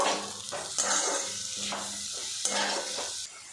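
Green chillies fry in a pan while being stirred, a soft sizzle with intermittent scraping strokes and a low hum underneath, close and fairly quiet.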